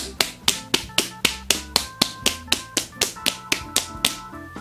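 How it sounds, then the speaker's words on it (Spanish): Open palms slap against the bare abdomen during a self-massage routine, giving a run of about fourteen sharp, evenly spaced smacks at close range with no voices. "Esta vez golpeamos el abdomen con las palmas."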